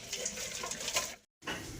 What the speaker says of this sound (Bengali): কফি পাতাটা আমি ঝরিয়ে নেব এবারে